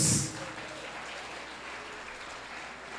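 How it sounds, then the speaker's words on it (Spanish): A church congregation claps together in a steady, even wash of applause that stays moderate and constant, with a brief louder burst at the start. "Le damos palmas fuertes y decimos gracias, Dios."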